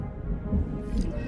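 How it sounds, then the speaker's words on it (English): A thunderstorm in the dinosaur park game Jurassic World Evolution 2, with a low, rolling rumble of thunder and rain-like noise at moderate loudness, continuing without talk. "And there's a storm."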